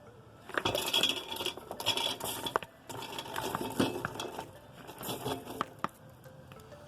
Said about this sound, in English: Then add your veggies. In go the veggies.